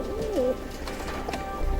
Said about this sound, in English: Nice birds. Gentle, easy to handle, easy to breed.